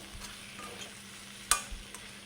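Green mango thoran being mixed in a pan after coconut oil is poured in, a faint low sizzle with a sharp spoon or utensil clack midway and a couple of softer knocks.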